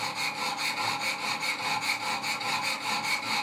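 Wicked Edge guided sharpener stones stroking the blade of a Benchmade 940 knife, a steady rhythmic rasping with even back-and-forth strokes about every quarter second, close and consistent throughout.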